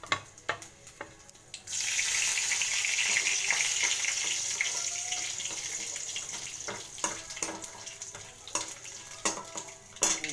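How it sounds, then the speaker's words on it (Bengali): Mustard seeds, cumin, fenugreek and dried chilli hit hot oil with a sudden loud hiss that stays up for several seconds and then fades, while sharp pops and spoon clicks sound close by. "ফোড়নে থাকছে একটু সর্ষে, একটু জিরে আর মেথি আর শুকনো লঙ্কা"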